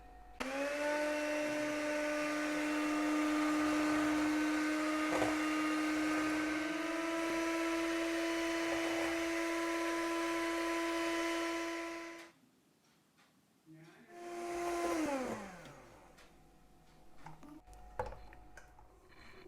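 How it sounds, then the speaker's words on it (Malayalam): An electric mixer beats three egg whites for a Christmas plum cake, whirring loud and steady for about twelve seconds, then cutting off and briefly restarting before winding down. "ഇത് നല്ലപോലെ പതിഞ്ഞ് വരുന്നവരെ നമുക്കൊന്ന് ബീറ്റ് ചെയ്തെടുക്കാം"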